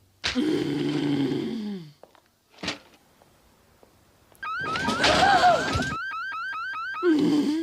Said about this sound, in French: Oh, mince, l'alarme doit être détraquée.